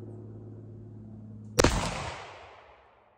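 Muzzleloader rifle fired outdoors, one loud sharp boom midway through after a low steady hum, then a long rumbling echo that fades slowly over the next second and a half.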